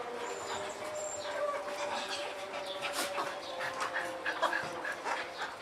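A dog panting and whimpering nearby, with soft rhythmic breaths and faint whines, alongside someone speaking.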